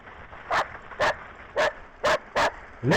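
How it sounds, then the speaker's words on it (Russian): Dogs in a spring forest bark in a steady series of six sharp, evenly spaced yaps, moderately loud over a constant background hiss, with no talking. "Лесные собаки."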